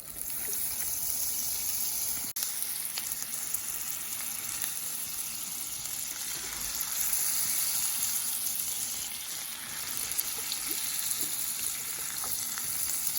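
Cubes of butter melting into caramel in a pan, a continuous bright sizzle and crackle that holds steady and close for the whole stretch, with no talking.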